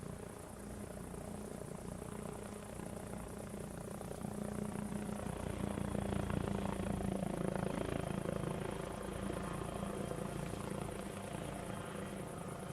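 A helicopter in the modded military video game Arma Reforger, a steady, loud rotor thrum with whining engine tone that swells slightly toward the middle and holds continuous throughout, with no talk.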